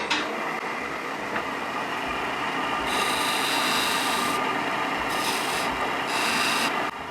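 Wood is rubbed and rasped in long strokes to shave a wooden lidded box to a tight fit, a continuous close scraping hiss that swells in several harsher passes.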